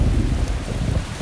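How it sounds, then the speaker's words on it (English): A thunderstorm breaks overhead with a dense, steady roar of heavy rain and low rumbling thunder, loud and continuous throughout. "the storm finally erupted overhead."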